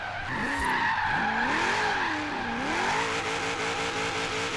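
Tires skid and squeal loudly as a Subaru BRZ drift car slides through corners in the video game Forza Horizon 3, engine tone rising and falling in sweeping pitch bends over a steady roar throughout.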